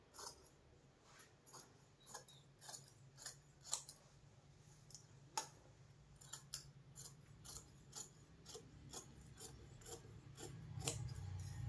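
Scissors cutting blouse fabric, a quiet series of crisp snipping and rasping blade strokes in an irregular rhythm, heard close and alone over a faint low hum.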